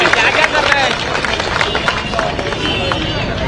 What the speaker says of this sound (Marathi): लाडके भाऊ टाळ्या नाही वाजवत काय?